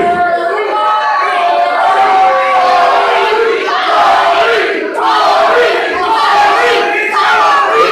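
Wrestling crowd at a live event roaring and chanting in support of a wrestler, a sustained loud mass of voices with rising shouts throughout.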